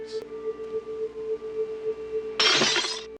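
A glass pearl shatters inside a box in a Scooby-Doo cartoon: one loud, bright crash of breaking glass near the end, after a steady low hum.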